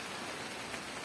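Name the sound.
rain falling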